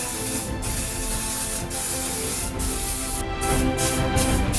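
XCP anti-corrosion aerosol sprayed onto the suspension of a 1996 BMW E39, a continuous close hiss with several brief pauses between bursts.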